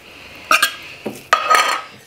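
Tuna being mashed in a bowl gives a few loud, close metallic clinks and scrapes of a utensil against the dish, in short separate bursts.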